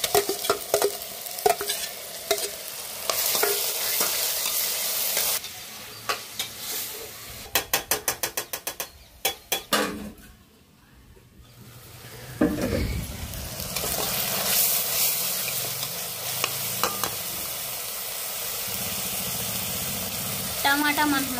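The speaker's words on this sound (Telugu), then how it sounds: "ఉల్లిపాయ పచ్చిమిర్చి అల్లం వెల్లుల్లి పేస్ట్ కూడా మొత్తం అయితే మనకు బాగా ఫ్రై అయినాయి కదా" Onion, green chilli, ginger garlic paste and ground tomato fry and get stirred in a pan for a fish curry, with loud sizzling, bursts of rapid scraping, a brief quieter spell, then steady frying again.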